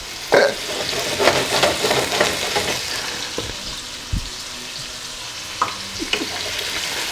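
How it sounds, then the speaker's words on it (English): Potatoes fry in a pan for Persian green bean stew (khoresht loobia), a steady close sizzle with occasional stirring clatter and small pops throughout. "I always fry my potato or fry the potato"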